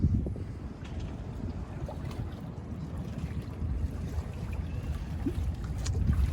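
A sailboat slides close past an anchored boat during a race on open water, heard as a steady low wash of water and wind that swells slightly toward the end, with no voices.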